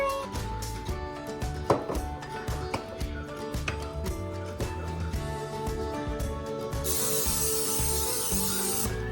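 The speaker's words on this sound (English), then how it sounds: "I am going to spray down my pans with some canola oil cooking spray." A steady hissing spray of canola oil cooking spray onto pans starts partway through and runs on continuously over background music and kitchen clatter.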